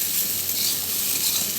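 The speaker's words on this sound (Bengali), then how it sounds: "চলো পরিমাণ মতো লবণটা দিয়ে দিলাম, এবার নাড়িয়ে নিচ্ছি," Potatoes fry in a pan after salt is added, a loud steady sizzle up close as they are stirred, with no voices.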